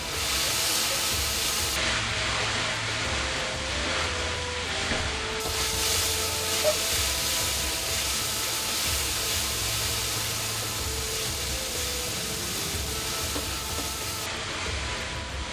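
Beef strips go into smoking-hot oil in a wok for a quick stir-fry of beef with green peppers, giving a loud, steady hissing sizzle that holds for the whole stretch.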